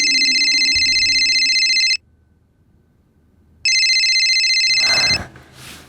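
A phone ringtone rings loudly and steadily in two long bursts separated by a short silence, a call being placed; a faint low thump sits under the first ring and a brief noisy rustle follows near the end.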